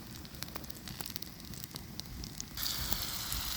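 Mushrooms sizzle steadily in an oiled frying pan, a close, continuous hiss with scattered pops and crackles that swells a little louder near the end.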